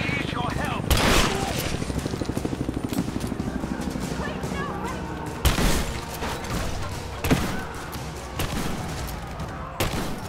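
Loud gunfire from a shooter video game, with repeated sharp blasts and bursts of rapid fire over a continuous background of game noise, and several heavy booming shots standing out near the end.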